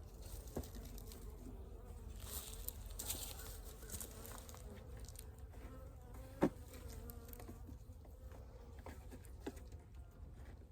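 Honeybees buzz softly in an open hive, a faint, steady hum with a few light taps and knocks. No voices are heard.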